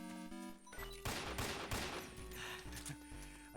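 Gunfire in the online stealth shooter Metal Gear Online, a steady stream of loud shots and bursts continuing over game music and effects.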